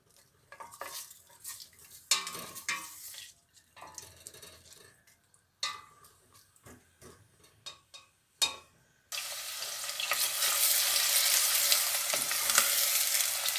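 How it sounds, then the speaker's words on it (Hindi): Garlic and onion sizzle in a pan, starting with scattered clinks and stirring scrapes before a steady loud frying hiss takes over, close and without talk. "लहसुन जाएगा, अब इसे अच्छी तरह ब्राउन करना है।"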